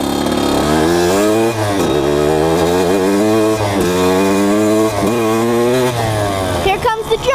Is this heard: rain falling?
no